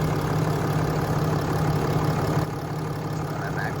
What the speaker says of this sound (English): This is a healthy engine.